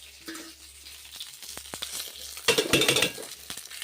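Mustard seeds, curry leaves and dried red chillies crackle and sizzle in hot oil while tempering for coconut rice, with the popping swelling sharply partway through alongside light clinks of a pan.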